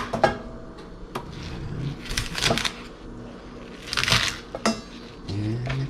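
A knife cutting Chinese broccoli into medium-sized pieces on a board, a series of sharp, irregular chops and crunches close by, with a few clinks of utensils between them.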